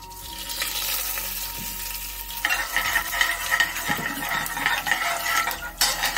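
Fenugreek seeds fry in a hot pan, a crackling sizzle that jumps louder partway through, with scraping stirs of a utensil against the metal, close and continuous with no talking.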